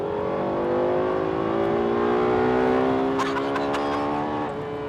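Lexus V10 engine revving hard through successive downshifts, a loud continuous howl with rising and dropping pitch and sharp blips near the end, heard up close with no talk.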